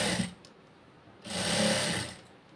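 A sewing machine stitches a blouse lining in two short runs, a brief burst and then a longer steady whir, with a quiet pause between them.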